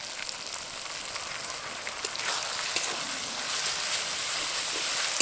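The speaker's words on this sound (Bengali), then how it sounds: "এখন এর মধ্যে দিয়ে দেবো জিরে আর কাঁচা লঙ্কা বাটা।" Cumin and green chilli paste frying in a pan with softened tomatoes for a country chicken curry gives a soft, steady crackling sizzle that builds slightly toward the end, with no talk.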